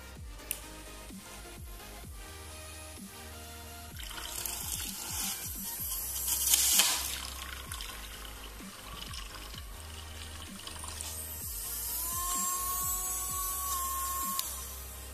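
A small homemade mini motor water pump runs submerged in water, giving a steady faint buzzing whir with gurgling and splashing that swells midway. No one speaks.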